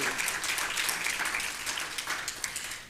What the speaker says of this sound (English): I want everybody to give a round of applause for our honorees for 2022.